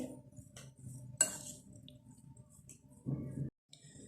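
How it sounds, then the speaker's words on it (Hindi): Potatoes and chicken being mixed in a bowl with salt, black pepper and cumin, quiet soft squishing and a few light clinks of a utensil against the dish, close up, with brief pauses and no talking. "आलू और चिकन को एक जगह कर लेंगे। साथ ही इसके अंदर मैं नमक और काली मिर्च और ज़ीरा ये भी ऐड कर दूँगी और इन चीज़ों को हम मिक्स करेंगे।"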